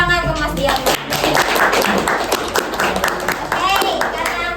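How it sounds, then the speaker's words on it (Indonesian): A classroom of students claps for a classmate in a religious tolerance lesson, with brisk, uneven clapping mixed with chatter and voices close by throughout. "Kasih tepuk tangan ke Mas Diaman."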